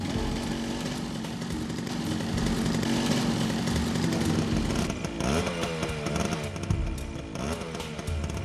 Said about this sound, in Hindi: तभी मैंने एक मोटरसाइकिल देखी।